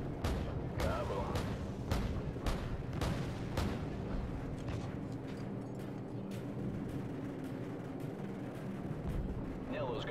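AC-130 gunship cannons thumping repeatedly in Call of Duty 4: Modern Warfare, a steady run of heavy booms over a rumbling battlefield bed, with players talking through it.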